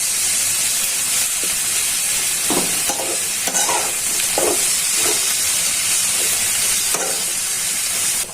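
Radish greens with green chillies fry in a pan, making a constant loud sizzle broken by a series of short spatula scrapes and knocks, with no voices.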